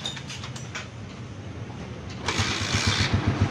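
A Honda TMX155 motorcycle engine turns over and catches, rising from a low rumble to a steady, louder idle close to the microphone.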